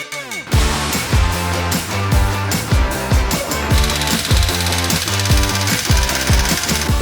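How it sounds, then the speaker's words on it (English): Chopping and cleaning the front axle of a Suzuki Samurai buggy build with a power tool, a loud, steady rattling hammering that runs almost without pause, repeated in rapid pulses close by. "we're going to chop and clean the front axle, get it all prepped"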